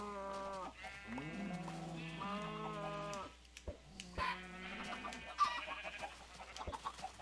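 Baby chickens in the Minecraft video game make a run of high, repeated synthetic clucks and chirps, fairly clear and close, with a few short clicks between them and no talk.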